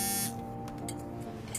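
A phone rings during a Korean legal drama scene as a lawyer takes a call from a prosecutor: a steady electronic buzzing ring, fairly quiet, that holds briefly and then fades, with no talking.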